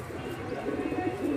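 Soft, low pigeon coos ripple steadily and close by, a continuous burbling murmur without any talking.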